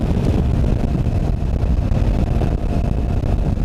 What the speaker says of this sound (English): you like to hear the exhaust notes as you're riding along